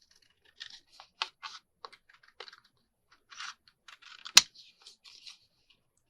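Scissors snip through paper while a stamped card-making piece is cut out close to its edge: a string of short, crisp, irregular cuts heard up close, with one sharper click near the end.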